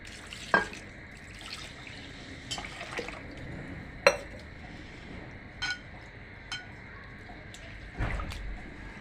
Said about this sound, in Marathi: तांदूळ स्वच्छ पाण्याने चांगले धुवा